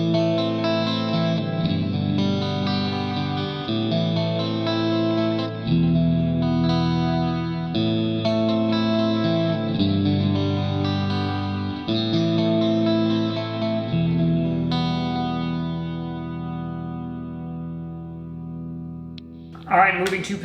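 Electric guitar with a Seymour Duncan Nazgul/Sentient pickup coil-tapped, playing a steady run of chords and notes with a slightly driven tone, continuous for about twenty seconds before a brief final scrape.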